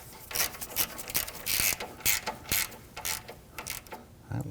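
A hand ratchet snugs down the horizontal lower radiator bolts on a 2001-2009 Volvo S60 2.5L five-cylinder, giving quick, close, repeated clicking strokes in steady bursts with brief pauses, nearly alone with no talk.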